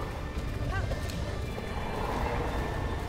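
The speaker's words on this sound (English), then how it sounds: "go, horse, we've got this." A horse gallops in The Legend of Zelda: Breath of the Wild on Nintendo Switch during the Dark Beast Ganon fight, a steady, dense rush of hoofbeats mixed with game sound, loud and continuous throughout.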